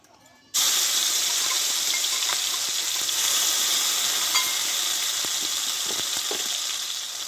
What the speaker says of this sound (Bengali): পুদিনা পাতা ধনে পাতা কাঁচা লঙ্কা বেটে রেখে তেলে এটা আমি ভেজে নেব একটু